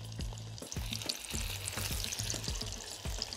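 Trout lightly dredged in starch fries in hot oil with a steady, close crackling sizzle and scattered pops, with no talking.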